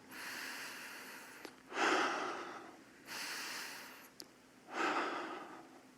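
Slow, deliberate meditative breathing with three long, soft exhalations through the nose, spaced evenly with quiet pauses between them, close and alone.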